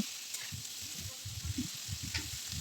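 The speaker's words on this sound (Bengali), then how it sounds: "তেল পেঁয়াজে টমেটো কষিয়ে আমি সবজিগুলো একটু কষিয়ে নিচ্ছি" Vegetables frying in oil with onion and tomato in a pan, a steady close hiss of sizzling under soft, low stirring thumps, with no talking.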